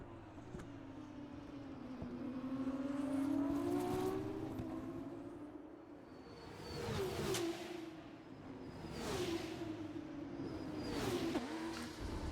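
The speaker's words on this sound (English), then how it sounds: "I think these cars sound pretty cool" Open-wheel F1 24 race cars whine past on a Silverstone circuit in the video game, engine tones sweeping up and down with gear changes and passing cars, fairly faint and steady throughout.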